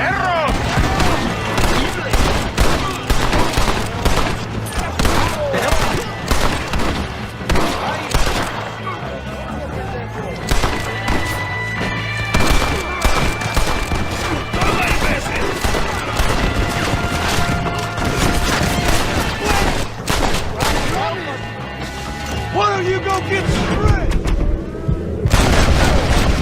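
Gunfire rings out in the Red Dead Redemption video game: a long, busy shootout of repeated shots and crashes mixed with music and shouting voices, loud and nearly constant throughout.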